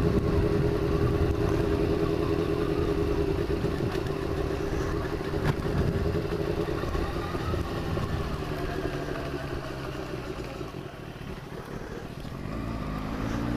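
A 2000 Kawasaki ZX6R with carburetors and a full exhaust system runs steadily, with a continuous buzzing drone and a slight rise and fall in revs, heard up close with no talking.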